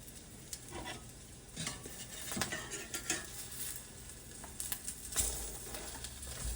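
A Monte Cristo sandwich browns in a skillet with a soft, quiet sizzle, punctuated by occasional light clinks and scrapes of a utensil against the pan.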